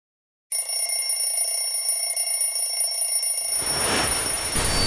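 Alarm clock in the horror game Death Park ringing nonstop with a loud, steady electronic tone, and a harsher burst of noise swelling in near the end.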